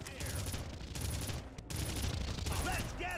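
Rapid automatic gunfire in Red Faction, a dense burst of shots that pauses briefly then resumes, loud and close, with voices talking partly over it.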